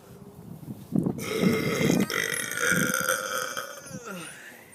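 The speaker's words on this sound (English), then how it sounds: "I think burping works better when I'm standing up." A person lets out a long, loud belch while standing up, a deep, drawn-out burp lasting a few seconds after a short grunt, close to the microphone.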